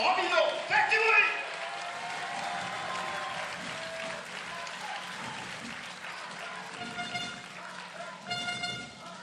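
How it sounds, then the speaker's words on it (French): An indoor crowd at a professional table tennis final applauds, with air horns tooting and an announcer talking over the cheering. "Nous en redissons avec des applaudissements pour Alex Robino."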